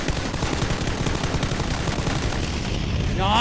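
Automatic assault rifle fired in a long full-auto burst in PUBG, loud, dense rapid gunfire throughout with a brief tonal effect near the end.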